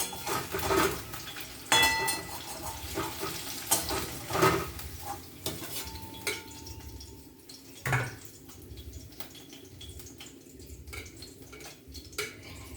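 Ridge gourd dropped into leftover fish oil in a pan, with soft sizzling, several sharp clatters and stirring knocks of utensils against the pan, quiet and uneven with gaps.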